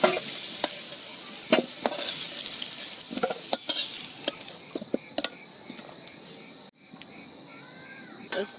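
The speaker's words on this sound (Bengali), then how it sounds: "লাল লাল করে আলুটা ভেজে নেব" Potatoes frying in a pan while khichuri is cooked on a winter evening: a steady crackling sizzle with sharp pops scattered throughout, close by, briefly dipping near the middle before the crackle resumes.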